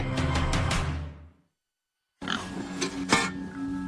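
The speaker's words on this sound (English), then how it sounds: "As Laura Saxton tends pigs in her Yuma, Colorado home" Pigs on a home farm in Yuma, Colorado grunt and oink in two loud close bursts separated by a brief silence.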